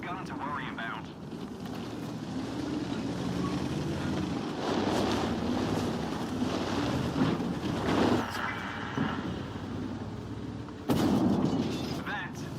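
Tank cannon fire in the World of Tanks video game, heavy booming blasts with a sharp shot near the end, heard among rumbling engine and wind-like noise with voices talking.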